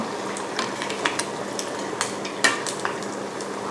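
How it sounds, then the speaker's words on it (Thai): Banana spring rolls filled with vanilla cream deep-frying in hot oil, a dense, close sizzle with small crackles and occasional utensil taps, with no voices. "แล้วทีนี้เราก็จะรอทอดให้เป็นสีเหลืองทอง"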